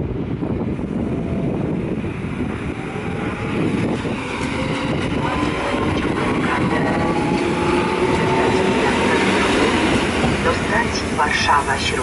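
EN57 electric commuter train pulling away from a Polish station platform: a steady rumble of wheels and motors with rhythmic rail clatter that builds gradually, heard from close by with faint station noise around.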